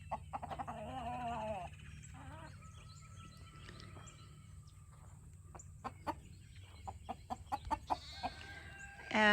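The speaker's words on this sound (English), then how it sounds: "That's a really pretty hen." A pretty hen on a farm gives scattered clucks and short calls, with a busy run of sharp clucking near the end, close by against a quiet low hum.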